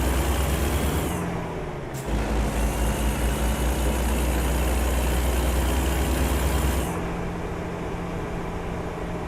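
Heavy truck in American Truck Simulator idling with a steady low rumble, broken by loud bursts of air-brake hiss, one sharp release near the start and a long sustained blast before the engine settles back.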